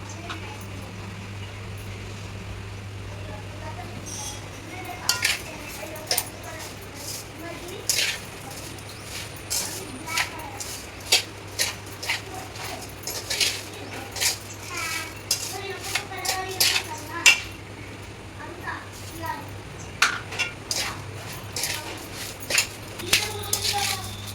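Sugar and oil being mixed into a sweet mustard pickle, with scattered soft scraping and clinks of stirring against a steady low hum, under continuous talk.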